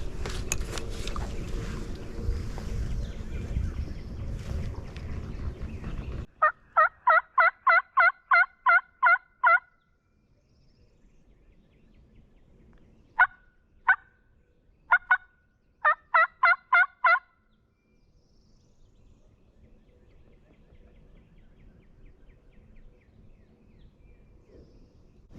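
Bursts of rapid, rattling gobbles from a wild turkey, a long volley followed by several shorter ones, loud and fairly close, with quiet gaps between.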